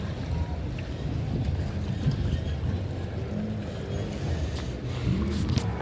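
A boat approaches on a strong, fast river current, heard as a continuous low rumble of engine and water with wind buffeting the microphone throughout.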